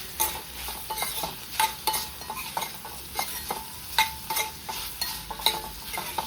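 Ginger-garlic paste fries in oil with a soft, steady sizzle, broken by repeated sharp scrapes and clinks as a spoon stirs it around the pan, close by with no talking.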